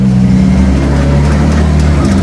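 A warmed-up drift car at a Drift Masters GP qualifying round in Ireland pulls away to join the queue, its engine a loud, close, steady drone with a deep rumble.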